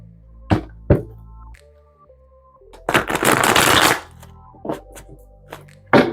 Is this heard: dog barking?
no